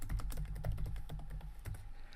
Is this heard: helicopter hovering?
no